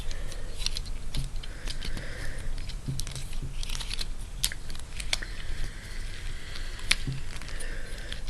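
Small plastic clicks and snaps come from the wings of a VF-19S Valkyrie toy being folded down, a close, irregular run of light taps and rattles with no talking.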